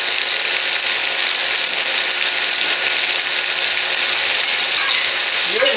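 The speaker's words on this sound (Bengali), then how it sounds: "উচ্ছেটা ভালো করে লাল লাল করে ভেজে নেব।" Bitter gourd seasoned with salt and turmeric frying in a pan, giving a loud, steady, dense sizzle that runs throughout without pause.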